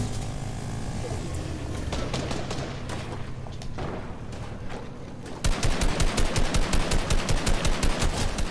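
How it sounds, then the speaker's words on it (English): Fortnite battle royale gunfire, loud continuous bursts of rapid automatic fire with dense rattling shots, growing heavier and more rhythmic in the second half. "We got people shooting us."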